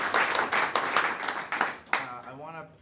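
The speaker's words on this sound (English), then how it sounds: "Let's give him a round of applause." An audience claps in a burst of applause that lasts a couple of seconds and then thins out, with a voice starting to speak as the clapping fades.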